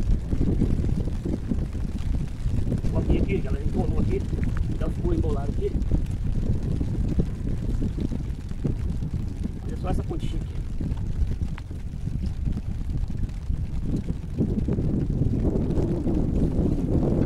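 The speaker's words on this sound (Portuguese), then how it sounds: "Eu gosto desse vento, pessoal." Strong wind roars across a microphone aboard a fishing boat at sea, a constant loud rumbling gust that masks most other detail, with faint voices under it.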